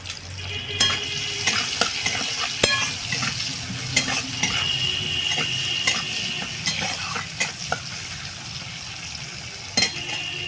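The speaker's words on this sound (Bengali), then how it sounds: "ওই তেলের মধ্যে দিয়ে দেবো পাঁচ ফোড়ন এখানে একটা পেঁয়াজ কুচি রেখেছিলাম পেঁয়াজ কুচিটা দিয়ে দেবো" Chopped onion and panch phoron fry in hot oil, giving a constant close sizzle with frequent sharp clicks and taps of a utensil stirring in the pan.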